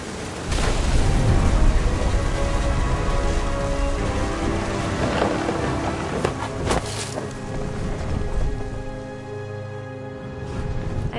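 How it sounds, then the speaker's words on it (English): A thunderstorm in the What Remains of Edith Finch video game, with steady loud rain and wind, low rumbling thunder and scattered sharper crackles throughout, close and full. "The thunder sounded much too close and full of angry power"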